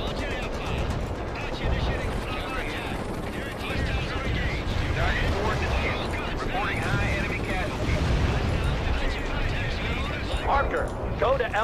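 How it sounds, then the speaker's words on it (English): Mortar and artillery fire in the real-time strategy game World in Conflict: a dense, continuous barrage of blasts and gunfire rumbling under layered radio chatter and battle noise, loud throughout. "Zulu Niner firing mortars."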